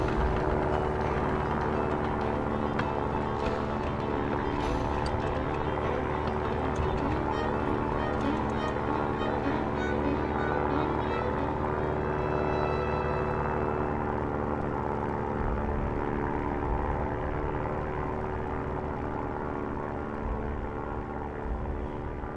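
An airplane in the Stranded Deep survival video game makes a steady, unbroken engine drone that holds at an even level for over twenty seconds, with no talking over it.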